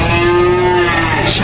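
A huge 1.4-ton cow at a cattle contest in Tulungagung gives one long, loud, close moo that holds its deep tone steadily before trailing off, with no talking over it.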